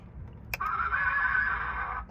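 A horse whinny sound effect blares from a loudspeaker after a sharp click, sustained and bright for over a second against a low rumble.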